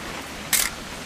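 A single crisp shutter click from an old camera in the video game What Remains of Edith Finch, sharp and close, sounding once against quiet background hiss.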